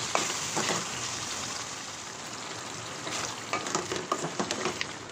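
Tomato pieces frying with onions in a pan, a dense hissing sizzle with scattered stirring clicks and spatters toward the end, close and steady.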